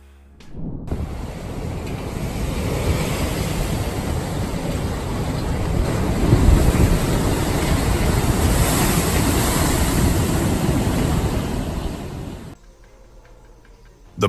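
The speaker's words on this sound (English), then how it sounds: "During the storm, the wall was ripped apart by waves" Storm-driven sea waves pound against a yard wall, producing a loud, continuous roar of surf and wind that holds steady for about twelve seconds before dropping away sharply.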